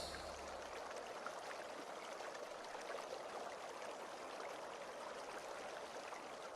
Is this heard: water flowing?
yes